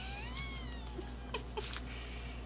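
Cats meowing at home in a few soft, drawn-out, wavering calls over a steady low household hum, one near the start and a couple of fainter ones later.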